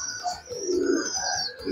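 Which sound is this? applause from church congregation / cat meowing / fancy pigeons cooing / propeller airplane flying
fancy pigeons cooing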